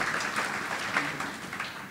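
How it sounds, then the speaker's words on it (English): Applause from the audience at a preservation achievement awards ceremony in Boston, a steady mass of clapping hands that stays moderately loud and even for a couple of seconds. "That deserves an applause, absolutely."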